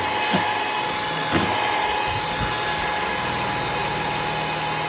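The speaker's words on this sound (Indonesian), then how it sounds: "Kurang lebih 15 menit kalau pakai hand mixer." An electric hand mixer whisks eggs for opera cake batter at high speed, a steady loud motor whine with a constant high-pitched buzz and a few faint knocks against the bowl.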